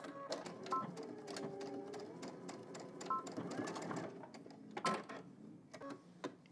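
A sewing machine runs in short whirring bursts while stitching straight across a seam with a 5/8-inch allowance, close and steady, with brief pauses between runs and faint talk under it.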